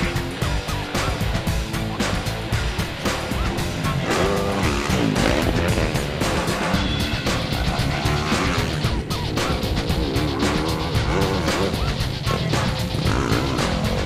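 A 2014 Yamaha YZ450F dirt bike is ridden hard around Sand Hollow and Eldorado Canyon terrain, its engine revving and whining loudly and continuously as it rises and falls in pitch.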